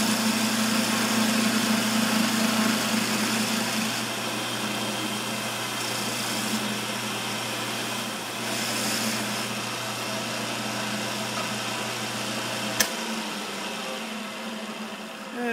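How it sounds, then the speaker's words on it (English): Wood lathe turning a chair spindle as a larger gouge shaves it down, a continuous motor hum under a steady hiss of cutting that stops abruptly near the end with a small knock. "we're going to try a little bit bigger gouge and see if we can't get that to go down the way we want"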